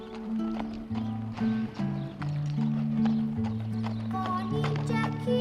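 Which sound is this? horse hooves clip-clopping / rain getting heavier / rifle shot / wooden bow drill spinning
horse hooves clip-clopping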